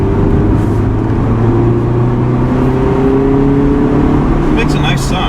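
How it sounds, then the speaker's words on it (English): Engine and exhaust of a 2017 Mazda MX-5 RF GT with the 1.5-litre engine, pulling hard from third gear on a dual carriageway, a steady droning tone rising in pitch as it accelerates, heard from inside the car. "Very nice exhaust sound from this car."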